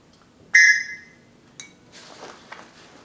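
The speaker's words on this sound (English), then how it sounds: "I got a million of these Tops survival whistles" A Tops survival whistle gives one shrill, loud blast with a strong bright tone, followed by scattered handling clatter and rustling nearby.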